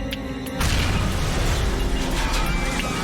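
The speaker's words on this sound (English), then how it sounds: "The explosion on board cripples the flight control system." A bomb blast aboard Philippine Airlines Flight 434, a jumbo jet flying from Manila to Tokyo, erupts as a sudden loud boom that gives way to a sustained roaring rumble and debris noise, with no talking.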